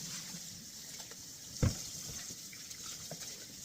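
Cold tap water runs steadily into a sink as butter is rinsed, a constant close splashing stream with one brief louder splash partway through.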